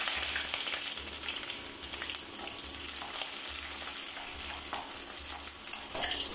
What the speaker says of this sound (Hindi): तो अनियन ब्राउन ब्राउन करके फ्राई हो गया है